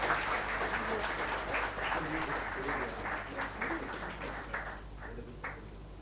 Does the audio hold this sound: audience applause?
yes